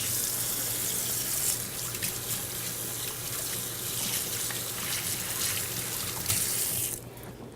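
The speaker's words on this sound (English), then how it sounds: "let me quick give my hands a wash" Tap water runs steadily into a kitchen sink while hands are washed, a close continuous splashing hiss that cuts off abruptly near the end.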